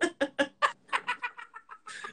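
A bird gives a quick series of about ten clucking calls, the first few sharp and evenly spaced, then softer, more rapid notes, close and fairly loud with nothing else heard.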